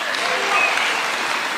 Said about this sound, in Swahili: Wapi makofi ya chairman?